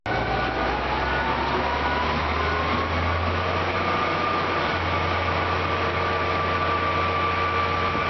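A train near Denver rumbles past in a continuous, loud, steady roar with low mechanical drone and rolling noise that persists throughout.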